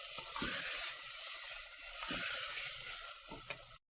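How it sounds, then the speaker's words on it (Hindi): Chicken pieces fry in a hot pan with turmeric and spices, giving a loud, steady sizzle with several sharp stirring scrapes up close before the sound stops abruptly. "हम अच्छे तरीके से ये सब चीज़ें डाल के हमने अच्छे तरीके से इसको भूनना है"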